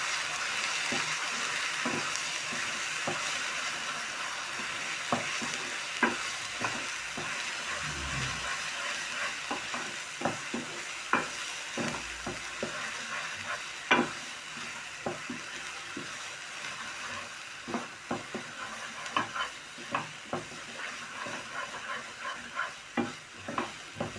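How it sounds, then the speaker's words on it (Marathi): Spice masala with turmeric sautéed in a pan for pumpkin kofta curry, a steady soft sizzle under repeated sharp clicks and scrapes of stirring, close and moderately quiet, with no talking. "आता चांगलं तांबूस रंगावर परतायचं आहे आपल्याला"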